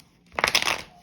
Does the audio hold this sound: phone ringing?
no